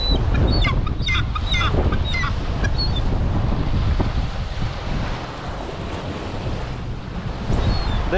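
Seagulls calling over a beach in North Wales, several short high cries in the first few seconds and again near the end, over steady surf and strong wind buffeting the microphone.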